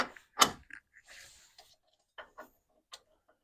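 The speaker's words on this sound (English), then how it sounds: "use a little jack, push your hub up" A small jack pushing a car hub up on a coilover during a rebuild, heard as a few sharp metallic clicks and creaks spaced irregularly, close and fairly quiet, with near-silence between them.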